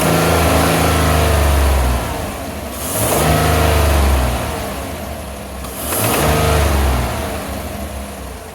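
A direct-injection gasoline engine, treated with fuel-system cleaner, is revved three times to around 3,000 RPM, each loud rev swelling and falling back toward idle, close and without talk.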